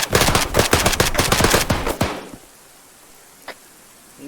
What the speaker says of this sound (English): taking fire from the north.